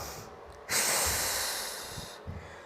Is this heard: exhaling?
yes